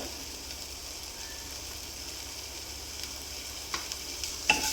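Fish curry powder frying in a pan over low heat, a soft continuous sizzle with a few light clicks of stirring toward the end, no one speaking.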